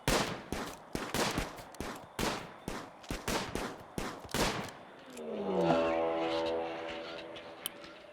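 Colonists shooting in the video game RimWorld: about a dozen sharp, evenly spaced shots crack out over several seconds, then give way to a swelling, tonal droning hum with one faint click.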